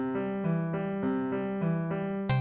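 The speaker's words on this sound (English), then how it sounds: "A prominent feature in all the Castlevania games is the Alberti bass, which sounds like this." Alberti bass figure from the Castlevania video game soundtrack, a repeating broken-chord bass pattern in steady rhythmic pulses played on chiptune-style synth tones, alone with no talk.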